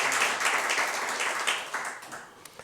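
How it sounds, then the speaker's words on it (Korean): A church congregation at a dawn prayer meeting claps together, dense applause that starts strong and thins into a few scattered claps. "그래도 우리 박수 한번 하십시다"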